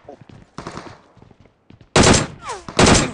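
Gunfire in PUBG Mobile, a quick burst early on, then two loud close rapid automatic bursts after a short pause, with a voice talking between them.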